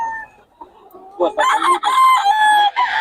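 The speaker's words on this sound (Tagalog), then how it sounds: "Yung black hen ni Boss ka." Black hen at a busy open-air poultry market clucking and crowing loudly and repeatedly, close by, with market noise and a voice faintly in the background.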